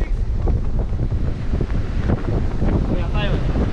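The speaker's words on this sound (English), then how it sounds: "The wind is pumping, guys. The wind is pumping." Strong wind buffeting the microphone on a rough seashore during bronze bream fishing, a loud continuous roar with gusty swells and surf beneath.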